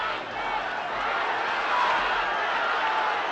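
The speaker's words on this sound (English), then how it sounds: "There are only a few Britons in the crowd, but they're making all the noise because Stracey is going on to win." A small group of British fans roars and cheers amid a boxing crowd in a Mexican bullring as Stracey fights Napoles, a steady broad wash of crowd noise throughout.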